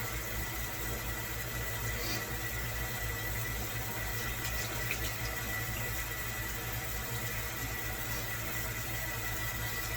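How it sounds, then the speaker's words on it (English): Tap water runs steadily into a sink for handwashing, a continuous even hiss with no breaks, moderately quiet and heard alone with no talking. "Go ahead and turn on the faucet."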